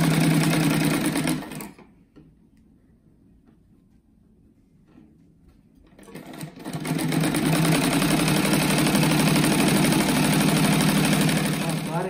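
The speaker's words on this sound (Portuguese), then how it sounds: "Daí aqui agora eu vou costurar essa faixa aqui no meio, assim." A sewing machine stitches a fabric strip for a kite-patterned rug, running in a loud, rapid mechanical whir close by, pausing for several seconds of near quiet, then starting again and running steadily to the end.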